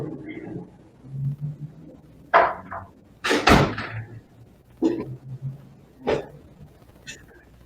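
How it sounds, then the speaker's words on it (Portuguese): Several knocks and thuds from a door being shut, spaced irregularly and fairly close, with a sharp louder bang near the middle; no one speaks. "Deixa eu fechar a minha porta aqui."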